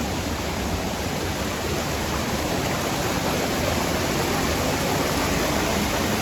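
Rushing water pours at Karlaan Waterfall in Pakistan, a dense, unbroken roar of falling water that stays loud and even throughout with no voices.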